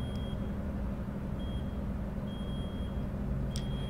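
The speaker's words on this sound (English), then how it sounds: "This beeping, is it the air or the parking brake?" A warning beep sounds from a truck cab in American Truck Simulator, repeating as short, spaced tones over a steady, low engine drone.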